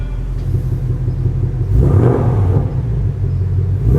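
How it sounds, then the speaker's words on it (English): A car engine with a modified exhaust idles with a deep, loud, close rumble, then a single rev swells briefly in the middle before settling back to the throaty idle. "Give another rev, Matt."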